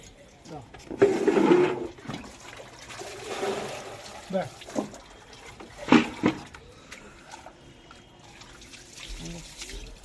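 Water poured from a mug over an American Bully dog during a bath, in splashing bursts and trickles that come and go while people talk nearby.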